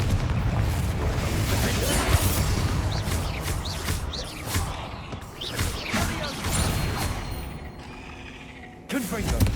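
Confringo blasting spells fire and explode in the Hogwarts Legacy video game. Heavy, booming blasts and crashing debris roll almost continuously, with a short dip before another loud burst near the end.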